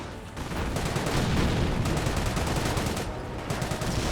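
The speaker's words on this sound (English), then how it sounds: "Great mortar hits there." Mortar shells keep striking during a battle in Company of Heroes 1, with a Panzer Elite force fighting a British one. Dense, loud rumbling blasts and gunfire run together without a break for the whole stretch.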